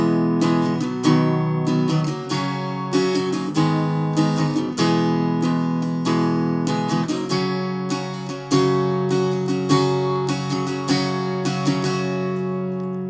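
An electric or acoustic guitar strums the chorus chords of a song in a steady down-up rhythm, close and clear, ringing chords moving through a repeating progression with no voice over it.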